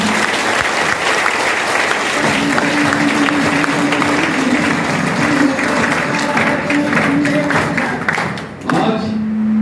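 A crowd claps steadily and loudly through a live outdoor event in Siwan, Bihar, broad sustained applause that fades briefly near the end, with a low tone joining it.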